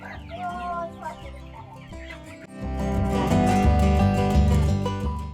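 Broiler chickens being loaded cluck and chatter together as a close, lively flock sound, quieter at first and then swelling to a louder, continuous murmur.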